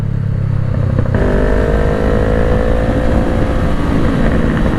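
A Honda CBR500R motorcycle rides with a loud, close, continuous engine drone, its pitch rising steadily after a gear shift as the bike accelerates, with wind noise underneath.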